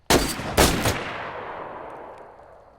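A firing squad fires a rifle volley on command: two or three sharp, loud cracks in quick succession, followed by a long, fading echo.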